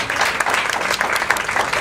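An audience at an anti-aging and detox event gives a brief burst of dense, steady clapping, close and fairly loud throughout.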